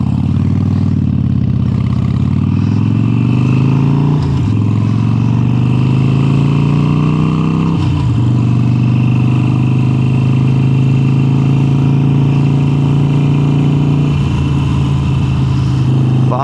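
A Harley-Davidson Sportster 883 with an upgraded exhaust rumbles loudly and close, its deep steady engine note climbing through several gear changes, each marked by a brief dip before the throb settles at a higher pitch.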